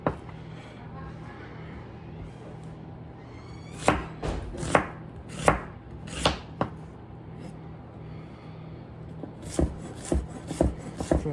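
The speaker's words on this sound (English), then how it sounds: "So I'll just run the knife through the onion." A sharp knife chops through an onion for pico de gallo, giving crisp, close taps on the cutting board in uneven bursts over a low steady hum.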